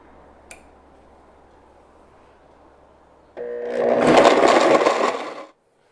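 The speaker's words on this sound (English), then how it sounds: "so let's just blend this up" A high-speed blender whirs loudly through mango for about two seconds, starting abruptly after a quiet stretch with one faint click, then cutting off.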